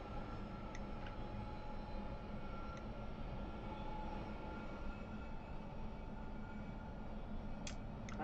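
Train Simulator 2020 recreation of an S8 Advanced Stock train on the London Underground Metropolitan line, a steady low rumble and rolling hum throughout with a few faint clicks, no talk.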